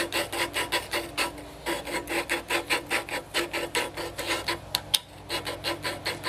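A heavy screwdriver presses and turns a valve on a McCormick Deering M tractor engine. It gives a close, rhythmic rasping scrape, back and forth about three times a second, with one sharp click near the end.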